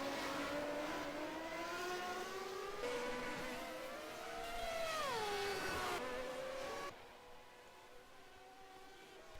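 Formula One race cars from a racing video game set in 1991 Montréal, engines whining and rising in pitch as they close up and overtake into a chicane, then cutting back sharply.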